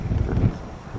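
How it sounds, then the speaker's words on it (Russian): Strong wind at Eltigen buffeting the microphone, a low rumbling roar with gusty swells, loud and close, no voices. "Здесь вот тоже сильный ветер"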